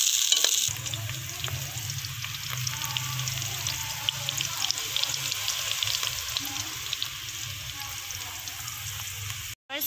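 Onions frying in oil for dhaba-style aloo qeema, a steady close sizzle with occasional stirring and scraping running through, no talk over it.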